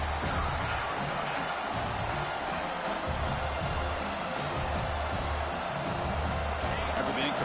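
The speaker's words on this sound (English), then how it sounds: "It's early, but this crowd is fired up. Listen to this noise here." Fired-up football stadium crowd at a Huskies vs Clemson game, a loud, steady roar of massed voices that fills the whole stretch with no break.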